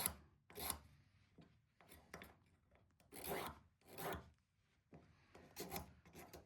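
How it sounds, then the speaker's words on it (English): A hand file rasps back and forth over the edges of a brass tree tag, clearing away burrs in several separate close, scratchy strokes with short pauses between them. "I'm doing it at a little bit of an angle to make sure the burrs get filed away."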